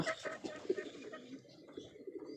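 Racing pigeons cooing in a loft, soft low repeated coos at fairly low volume with faint chirps mixed in.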